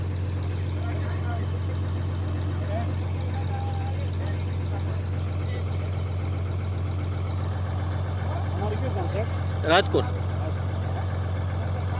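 A borewell drilling rig truck's engine idles with a low steady drone close by, while people talk over it and a brief sharp clank cuts in near the end.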